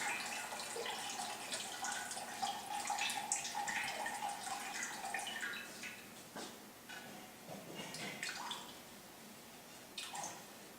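Water is scooped and poured out with a cup during a round robin testing procedure, giving close dripping and trickling with a steady watery splash that trails off into scattered drops.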